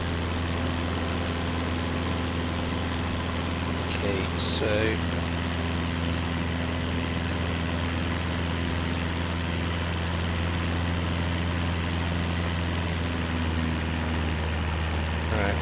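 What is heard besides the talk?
aircraft engine in video game MS Flight Simulator 2024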